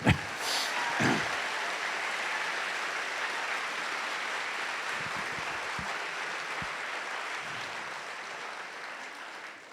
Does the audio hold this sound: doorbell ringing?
no